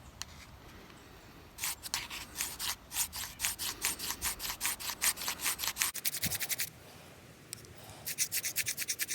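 A knife spine is drawn back and forth across a sharpening surface to raise a burr, giving a steady run of close, rhythmic scraping strokes, fairly quiet and alone, with a brief pause partway through.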